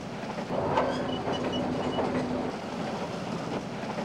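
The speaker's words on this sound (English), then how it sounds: "Back on the train, we cross the King River via the now fully restored Iron Bridge at Tupukina." A train rolls across the restored iron bridge over the King River, a steady rumbling roar with faint wheel squeal and rhythmic clacking, moderately distant and even in level.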